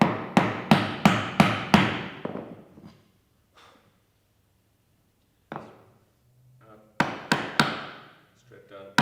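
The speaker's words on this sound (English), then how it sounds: "So use the smaller chisel because it's easier to take out material." A wooden mallet strikes a small chisel chopping out a mortise in wood, sharp knocks in a quick burst of five, a pause with a few scattered hits, then another rapid run of blows, close and loud.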